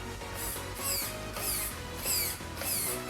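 A Power HD 20kg metal-gear waterproof servo on a TRX-4 Sport RC truck whines as it steers the unloaded tires back and forth, five rising electric buzzes in a steady rhythm, close and alone.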